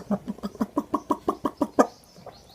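A rapid series of about ten short, evenly spaced chicken clucks on a farm in the Philippines, fairly close and loud, fading out into quiet at the end.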